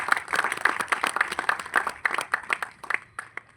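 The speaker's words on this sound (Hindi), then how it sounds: "एक बार जोरदार तालियां इस दादा लक्ष्मी जैसी फिल्म के लिए।" An audience at a film festival event applauds the film Dada Lakhmi with a dense burst of clapping that gradually thins out toward the end.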